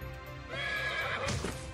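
A horse whinnies loudly within the Fate/Grand Order Arcade video game teaser, the neigh rising over hoofbeat clip-clops and game music, with no talk.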